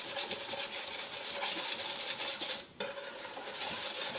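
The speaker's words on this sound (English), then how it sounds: "Pretty much right away I need to start stirring so that no part of the egg gets too warm and actually cooks." A whisk stirring hot cream into beaten egg yolks for pastry cream, a steady scraping and clinking in the bowl that runs continuously, briefly dropping out before resuming.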